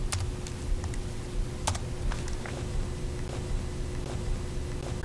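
Fingers type on a computer keyboard at a work desk, irregular clicking keystrokes in short bursts over a steady low background hum, no talking.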